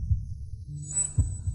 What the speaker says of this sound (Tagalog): Ang bilis ng tibok ng puso mo.